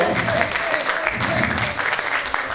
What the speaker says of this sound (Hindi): जोरदार तालियों के साथ स्वागत कीजिए। तालियां बजनी चाहिए